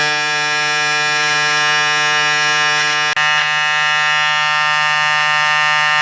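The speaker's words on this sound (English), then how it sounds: "Let's try the trimmer." A Braun Series 5 5035s electric shaver's trimmer buzzes close and loud, a steady rich electric drone held throughout with one brief dip.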